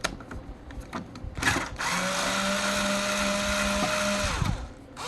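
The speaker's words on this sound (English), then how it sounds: "I'm going to go ahead and use a cross tip and another drill" A power drill with a cross tip whirs steadily for a few seconds after some clicks and handling noises, then winds down while unscrewing a Datacard 150i printer; it sounds close up.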